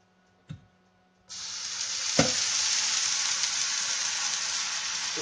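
Water thrown onto a hot pink frying pan while making pancakes: a small knock, then a loud sudden sizzling hiss that erupts and holds steadily, with a sharp clunk partway through.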